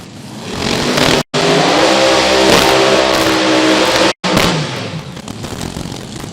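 A methanol-fueled Funny Car launches at a drag strip with a deafening, sustained engine roar, broken by two abrupt gaps, before easing slightly as the car pulls away.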